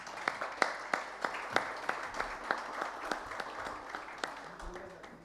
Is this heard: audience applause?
yes